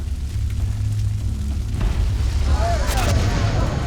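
A huge explosion on the Deepwater Horizon offshore oil platform rumbles low and heavy with a continuous roaring boom and crackling debris, loud and sustained throughout.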